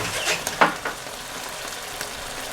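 Cuttlefish sizzling in a hot pan as it releases water, a steady frying hiss with a few sharp spits and pops early on, then settling into a constant crackle, close and moderately loud.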